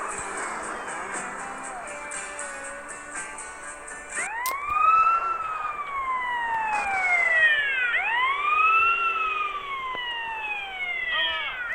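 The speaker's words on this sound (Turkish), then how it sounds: "polis geliyor polis" A police car siren in GTA San Andreas starts partway through with a loud wail that rises and falls, repeating steadily over ambient noise until the end.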